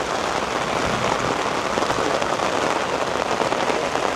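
Heavy rain drums on a fishing boat's small cabin, a dense, loud, unbroken hiss of drops with no voices.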